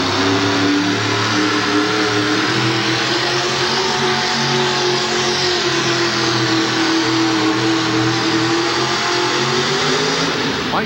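A 4WD pulling truck roars at full throttle during an indoor truck pull event in Worcester, Massachusetts, in 1989, its engine revving loud and sustained for about eleven seconds with no talk.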